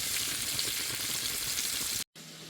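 Fish frying in a pan, a steady loud sizzle that runs without a break, cuts out briefly, then resumes.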